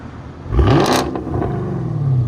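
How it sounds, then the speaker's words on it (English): A 2017 Chevy Camaro SS with a rear muffler delete revs once: the engine climbs quickly to a loud, rising roar, drops back and settles into a lower rumbling idle, heard close and alone. "Rev it."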